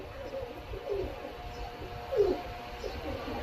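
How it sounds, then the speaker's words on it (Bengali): A pair of red-eyed high flyer pigeons coo softly nearby, a few low rolling coos over quiet background noise. "এক পেয়ার লাল চোখের কবুতর দেখাচ্ছি, ডাবল কবুতর"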